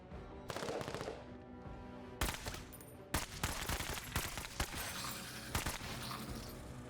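Soldiers firing in the video game Menace: bursts of automatic gunfire and separate sharp single shots over a steady background din of battle, with no talking.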